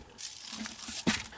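Dry Quikrete concrete mix poured from a cup into a mold, a short gritty rustling pour ending in a brief crunchy burst, close and fairly quiet.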